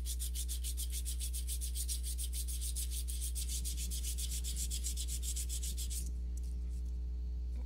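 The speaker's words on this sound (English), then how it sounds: "I'm working on 400 grit sandpaper." A small metal piece is rubbed back and forth on 400 grit sandpaper, making fast, even, rhythmic scratching strokes up close. The strokes stop near the end, leaving only a low steady hum.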